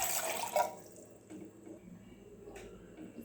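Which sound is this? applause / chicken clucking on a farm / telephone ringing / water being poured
water being poured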